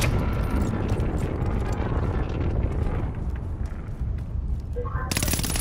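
Rapid automatic gunfire and explosions in the video game Call of Duty: Modern Warfare, a loud continuous barrage of shots that thins out before a final burst near the end.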